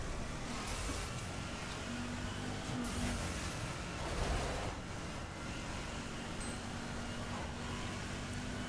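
Engine drone of a muscle car racing a circuit in the video game The Crew, a steady broadband roar with faint tonal hum and brief swells, continuous and fairly distant, no talking.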